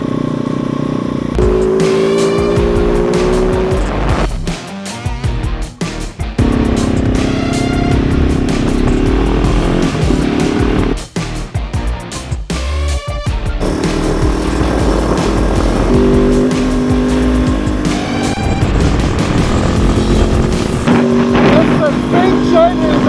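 A Kove 450 Rally motorcycle engine ridden in Africa, buzzing loudly and rising and falling in pitch through revs and gear changes with brief dips, mixed with wind noise and a voice talking over it.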